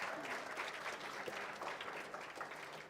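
Faint but steady applause from an audience at a South African Mathematics Foundation awards function greets a young award winner, continuous clapping with a slight dip midway.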